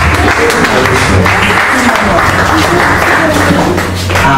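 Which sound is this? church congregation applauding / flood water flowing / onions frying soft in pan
church congregation applauding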